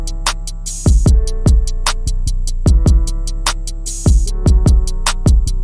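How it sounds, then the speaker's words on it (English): Music sample slowed with a halftime effect for a hip-hop beat, looping sustained tones under a steady pattern of bright ticking hits and deep booming low thumps, loud and dense with no voices. "Then in this sample, go to the mixer and add halftime, which is going to sound like this."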